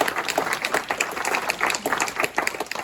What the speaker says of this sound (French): donc on peut vous applaudir